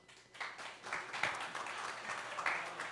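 A comedy club audience claps at a live stand-up show, a faint, fairly even patter of applause from the crowd that swells slightly partway through and holds for a few seconds.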